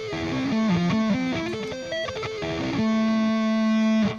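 Minor arpeggio sweep-picked on a distorted electric guitar, fast cascading runs up and down before settling into a long sustained ringing note, loud and up close.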